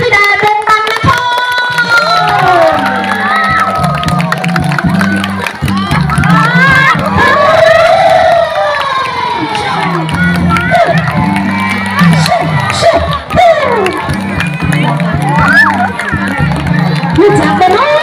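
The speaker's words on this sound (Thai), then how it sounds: "ขอเสียงปรบมือให้กับพระธิดาดงบังนคร" Loud crowd cheering and clapping at a comedic stage play fills the whole stretch, with shouting voices, excited babble and a rhythmic musical beat running underneath.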